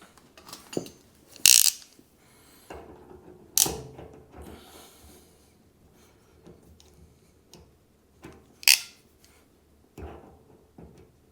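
A ratchet crimping tool squeezes a connector during work on a 1970 Monte Carlo, giving a few sharp clicks and clacks between quieter mechanical rattles, close and fairly loud with no talk.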